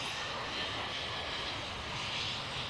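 Diamond light aircraft engine at Adelaide Airport, a steady broadband roar that holds at an even level throughout with no voices, like a plane running or passing at moderate distance.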